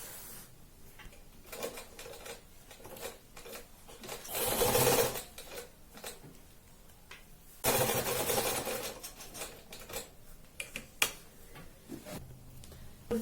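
A sewing machine stitches a folded kurti in several bursts of rapid whirring, with two long runs standing out and quiet ticks and handling sounds between them.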